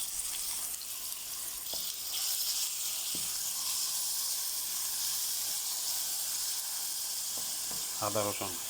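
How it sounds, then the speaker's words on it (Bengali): Ginger and garlic sizzling in hot oil with onion for a chicken masala, a steady close hiss and crackle with occasional stirring scrapes near the end. "চিকেনের জন্য মশলা বানাইতেছি, দিচ্ছি আদা রসুন"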